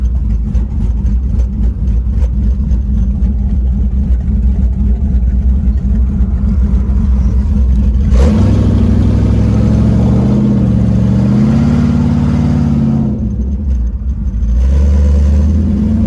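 Camaro F-body V8 with an aftermarket cam sits at a loud, lumpy idle after a cold start, then blips into a few throaty revs before settling back to the choppy idle, with no voices.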